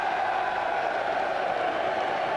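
Fulham football fans in a stadium at an Arsenal match keep up a steady, far-off wash of crowd cheering and chanting, an even, unbroken roar with no single voice standing out.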